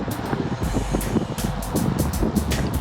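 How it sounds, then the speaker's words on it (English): Road traffic heard from a bicycle on a long-distance ride: a steady rushing roar of passing vehicles with wind noise, fairly loud and continuous, no speech. "It's the noise of the vehicles as they go by."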